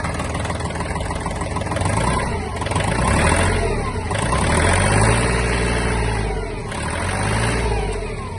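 A Kubota L1-185 Japanese mini tractor engine running close by, chugging steadily at idle with a few swells in revs.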